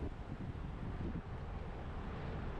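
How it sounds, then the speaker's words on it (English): Wind buffeting a cyclist's microphone during an open 50+ bicycle road race in California, a steady low rumbling roar with no other distinct sounds. "I'm exposed to the wind here"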